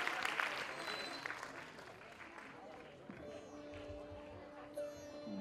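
An event audience applauds to welcome the Miss Udaan Entertainment dance group, a thick wash of clapping that eases off midway as sustained musical tones take over.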